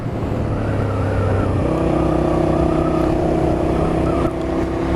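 A Honda VTR250 V-twin motorcycle ridden through town gives a close, steady engine drone that steps up in pitch and stays there as the revs climb, with no talking.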